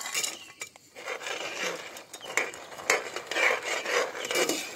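Fried ripe banana pieces stirred into melted jaggery in a pan: continuous close scraping and shuffling with light utensil clinks, steady and fairly loud, with no voice.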